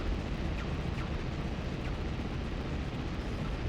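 Continuous deep, roaring explosion rumble from the Metal Arms video game fills the whole stretch, loud and dense, with a few faint crackles on top and no clear pauses.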